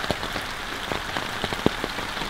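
Rain falls on the roof of a shipping container house, a steady dense patter with scattered louder drops tapping on the metal surface, close and without speech.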